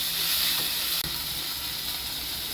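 Corned tuna sisig fries in a pan, a loud, steady, hissing sizzle that carries on throughout, broken by a single brief knock of stirring near the middle; no talking.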